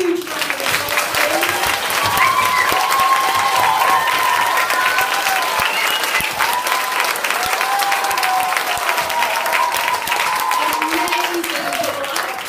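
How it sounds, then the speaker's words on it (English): Audience at a school summer music concert applauding two young comperes, loud, sustained clapping with a faint crowd murmur and a voice speaking over it throughout. "Harry and Herbie, can we give them a huge round of applause?"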